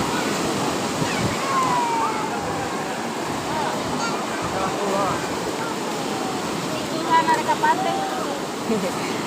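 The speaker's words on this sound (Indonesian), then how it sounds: "Ombaknya cukup kencang ya" Strong ocean surf breaks steadily on a white-sand beach at Sumur Tiga, Sabang, Aceh, a loud continuous roar and wash of waves, with faint voices from people nearby.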